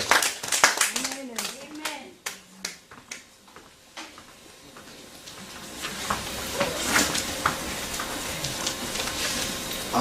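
A church congregation claps during a Sunday service, first a few sharp separate claps with a voice speaking, then building into sustained applause and cheering.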